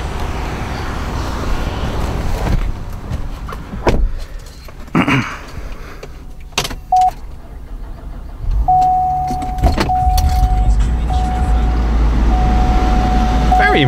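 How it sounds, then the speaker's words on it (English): A 2010 Cadillac CTS 4 sedan is pulled forward a short way, with close mechanical clicks and thumps, a brief whirring, then a low engine hum and a faint steady tone toward the end. "Let me just pull this car up a little bit so we can take a better look at it."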